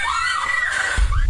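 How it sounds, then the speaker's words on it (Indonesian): A woman's high, drawn-out scream rings out in a hotel at night, a single sustained cry lasting about a second before a low thump. "Oh, ya kan ada yang teriak sob."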